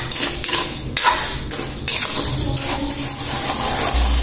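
Rice being stirred as it dry-roasts in a pan until brown for rice coffee, a steady close scraping and rustling of grains against the pan with no talk.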